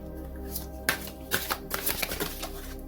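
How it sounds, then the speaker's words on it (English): Tarot cards are readjusted by hand with a few quick papery shuffles and light taps, close and brief. "I have to always readjust the cards."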